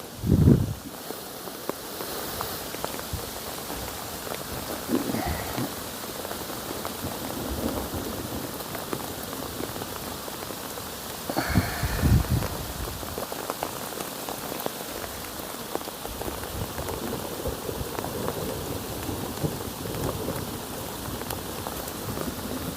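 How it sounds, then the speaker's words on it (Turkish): Heavy rain falling on vineyards in Cappadocia, a dense continuous patter of drops on surfaces and leaves, with a few louder gusts or rumbles rising briefly near the start and midway. "Yağmur."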